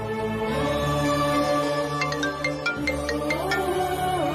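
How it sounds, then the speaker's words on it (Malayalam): A mother's mobile phone rings as a short series of bright electronic ringtone chimes, heard over a steady dramatic music background in a TV-serial scene. "അമ്മയുടെ ഫോൺ ബെല്ലടിക്കുന്നു."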